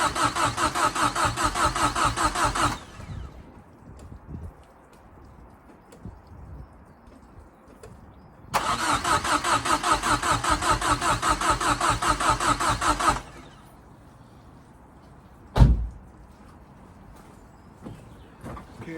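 A Ford Fiesta RS Turbo engine under restoration cranks and starts twice, each burst a loud, rapid rhythmic churn lasting several seconds, separated by quiet gaps, followed by a single sharp knock near the end.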